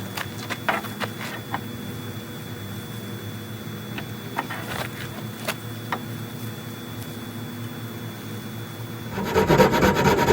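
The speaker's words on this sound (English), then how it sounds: "I want to get 2 wraps on the spindle so this plastic can grab that wood better" A bow drill strung with a twisted plastic grocery bag, the string rubbing against a wooden spindle, gives a steady quiet scraping with scattered clicks, then grows louder and harsher near the end.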